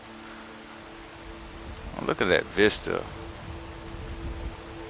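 Rain in the video game Skyrim, a soft steady hiss of falling drops in the background while someone talks over it.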